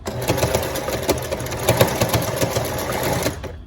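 Sewing machine running a backstitch along a fold on a 3D fabric face mask, a loud, continuous rapid mechanical chatter that keeps going for several seconds, then stops at the end.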